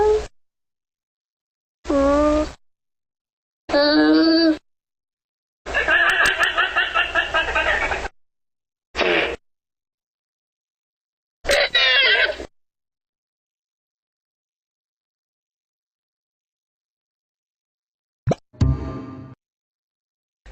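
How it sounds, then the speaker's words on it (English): A llama gives a string of short, nasal, voiced calls like a soft hum or bleat, about six separated by pauses, followed by a brief wet sputter near the end. "The noise the llama makes is something like "mwah.""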